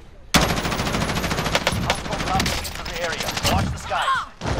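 Rapid automatic gunfire from a video game's plunder glitch, dense bursts of shots running almost nonstop and loud throughout with brief gaps, no speech over it.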